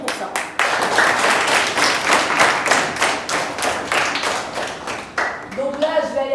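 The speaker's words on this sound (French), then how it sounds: "pouvez-vous applaudir pour ça?" A school audience claps together after being asked to applaud, producing steady, loud collective clapping with a near, rhythmic quality that stops abruptly near the end as a voice begins speaking.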